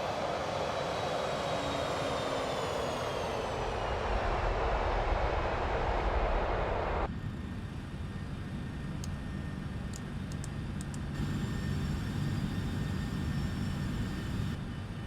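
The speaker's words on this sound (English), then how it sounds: "the engine sounds aren't terrible" MD-11 jet engines in a flight simulator climbing after takeoff: a loud steady roar with rising whine tones, cutting abruptly to a quieter, thinner engine drone with faint high tones for the rest of the span.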